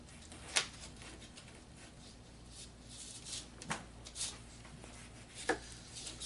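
A knife cuts lengthwise through a whole lemon on a board, with a few sharp, close chops and taps spread over a quiet, faintly shuffling background.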